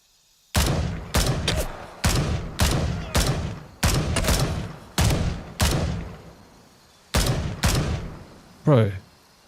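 Gunfire in the military shooter Gray Zone Warfare: a rapid string of about ten sharp, loud shots in uneven bursts, close and punchy, with a short tonal sweep at the end.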